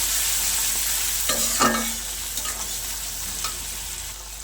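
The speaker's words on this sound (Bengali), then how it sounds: "আবারও সব কিছু একসঙ্গে খুব ভালো করে মিশিয়ে নেব।" A spoon stirs and mixes a spice blend of cumin and Kashmiri chili powder in a bowl for green tomato vorta, giving soft scraping and clinking strokes at close range with a few sharper knocks midway.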